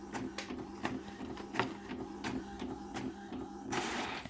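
A home photo printer runs while printing a photo, giving a steady mechanical whir with rhythmic clicks and feed pulses and a rising rush near the end, close and moderately loud with no talking.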